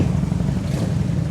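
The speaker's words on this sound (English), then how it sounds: "Revving up your bike and shit" A Harley motorcycle engine revs loudly and up close on a road during the Sturgis Motorcycle Rally, a continuous throaty rumble with no talking.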